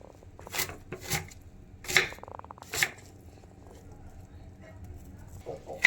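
A large fresh onion is chopped quickly on a board, giving a handful of sharp, separate knife strikes spaced about a second apart, with quieter cutting sounds in between.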